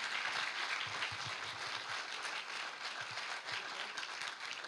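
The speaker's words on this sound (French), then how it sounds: "Je voudrais qu'on vous applaudisse, monsieur." A conference audience at a disability-themed gathering applauds a man from the floor, sustained clapping at a moderate distance with a few louder individual claps standing out near the front.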